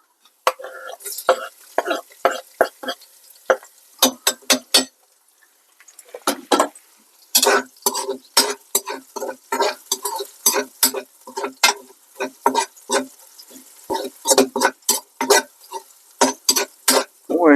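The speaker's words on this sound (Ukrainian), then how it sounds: "Цибулю ми засмажуємо до стадії карамелізації." Rhythmic scraping and clattering of a utensil stirring onions in a pan outdoors, repeated strokes over a soft sizzle, with a short pause partway through.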